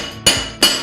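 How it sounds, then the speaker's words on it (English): Chipping hammer striking a fresh weld to knock off flux slag, two sharp metallic clinks about a third of a second apart, close and loud. "You can do this with a chipping hammer"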